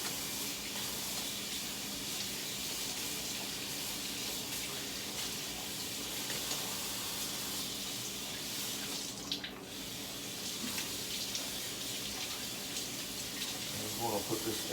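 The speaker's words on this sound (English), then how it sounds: "rinse it some more, rinse it off." Tap water runs steadily into a kitchen sink while conch is rinsed, a continuous close splashing stream with brief shifts as the flow hits the shellfish.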